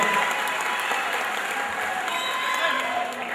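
A school audience applauds a guest artist from Jogja with continuous, full clapping that holds steady from start to finish, with faint crowd murmur beneath.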